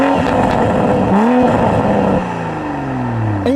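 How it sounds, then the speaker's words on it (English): A 2021 Toyota Supra in sport mode, its exhaust note loud and close as the engine revs up and down through several rising and falling sweeps, with no talking. "one important change you do get in sport mode is to the exhaust note"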